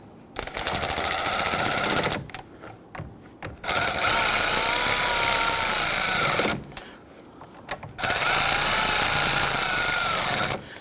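Three loud bursts of a power tool running nuts down onto a 2011-2023 Dodge Charger side mirror, each run lasting a couple of seconds with quiet gaps between them.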